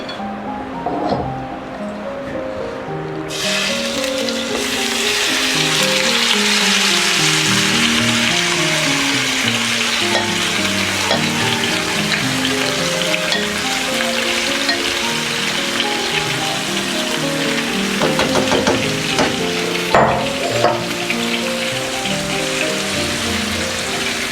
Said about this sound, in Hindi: अब हम इसी ऑयल में ये मैरिनेट किया हुआ चिकन डालेंगे